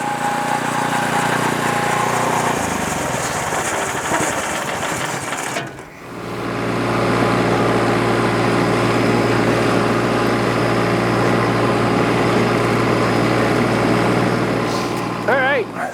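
The small engine of an MK Martin LS1846 lawn sweeper idles and then revs into a steady drone with a whirring of spinning bristles, loud and close; a brief pause interrupts it midway.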